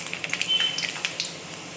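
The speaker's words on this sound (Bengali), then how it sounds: "এলাচ ফোড়ন দিয়ে এবার দিলাম শুকনো লঙ্কা" Dried red chillies sizzling in hot oil after cardamom tempering for a Bengali dish, a soft crackling sizzle with small popping spits, fairly quiet and close.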